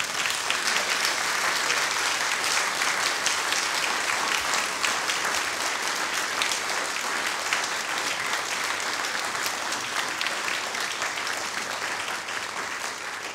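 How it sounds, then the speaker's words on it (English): Steady, sustained applause from a large crowd, even and continuous throughout, with no voices standing out. "I don't know if it's appropriate to give them a round of applause."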